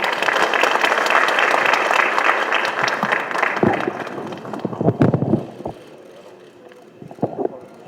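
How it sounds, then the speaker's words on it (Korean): A crowd at an outdoor Korean political campaign rally bursts into loud, dense applause that thins into scattered claps and fades after a few seconds, with some wind rumble on the microphone. "뜨거운 박수로 모시겠습니다."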